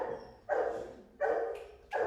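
A dog barks three times in a room, each bark fairly close and moderately loud, spaced with short gaps.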